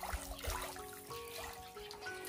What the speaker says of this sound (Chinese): 我这家伙都用大锅开始洗了啊，把根里的土洗一洗